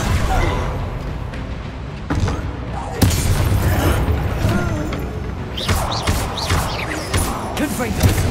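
Bombarda spell blast in Hogwarts Legacy, a heavy boom and thuds within dense combat noise and crackling effects, with voices speaking over the fighting.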